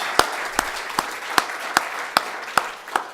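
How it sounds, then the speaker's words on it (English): Audience applause at a farewell and felicitation event, heard as a steady soft wash of clapping with several sharp, evenly spaced single claps standing out every half second, moderately loud. "Let's give him a warm round of applause."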